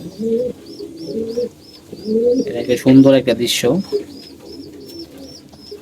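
Pigeons feeding their chicks coo repeatedly and close by, with soft chirps running through; the calls thicken into a louder cluster midway while someone speaks briefly over them.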